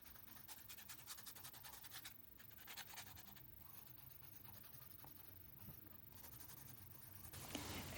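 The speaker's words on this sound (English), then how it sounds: "once this dries, I go back in with the colored pencil once again" Colored pencil scratching across an art journal page in soft, repeated strokes, close and quiet, with light scraping textures and no voices.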